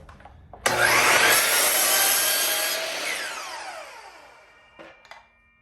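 A miter saw cuts a 22.5 degree angle: the blade whirs up suddenly into a loud, rough, steady cut lasting about three seconds, then winds down with a falling whine. A couple of soft clunks follow.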